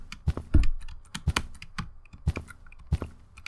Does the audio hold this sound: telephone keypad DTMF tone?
no